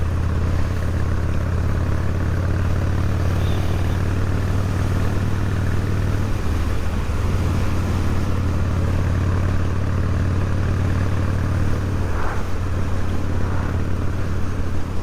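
A Harley-Davidson Dyna Glide Street Bob motorcycle rides steadily on a winter road, its low engine drone loud and continuous throughout, with wind rush layered on top.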